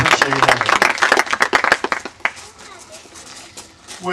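A summer camp crowd claps and applauds in a burst of sharp, close handclaps that thin out after a couple of seconds, with voices talking and children audible around it.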